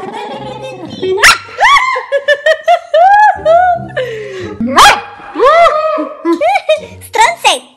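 Small dog making repeated yappy, whining vocalizations in a home, nearby and lively, with bursts of rising tonal yelps mixed among people's voices.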